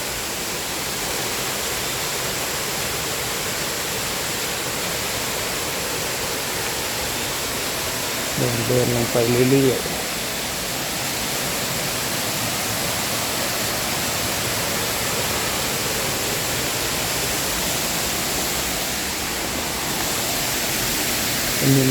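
Sawan Noi waterfall in Mae Sariang in the cool season, with low water flowing over limestone. Steady broadband rushing fills the whole stretch at an even level, with a brief voice speaking partway through.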